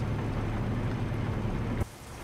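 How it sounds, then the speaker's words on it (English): Rain falls in a video game as a dense, steady hiss with a low rumbling undertone, loud and continuous, then drops abruptly to a quieter wash. "Though I'd very much like this rain to sod off."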